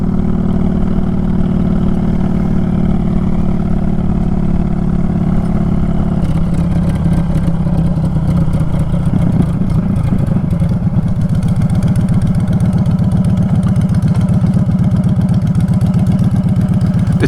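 A 2022 Honda Fury motorcycle engine rumbles steadily throughout a ride, a loud, continuous low drone that shifts in tone partway through as the rider works the throttle, with no talking.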